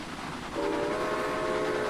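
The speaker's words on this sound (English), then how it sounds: "Whistle as we go past." A steam-era train's whistle in the Railway Empire game sounds as it passes another train on the London to Dover line: a sustained multi-tone blast, loud and close, rising over steady rolling rail noise and continuing to the end.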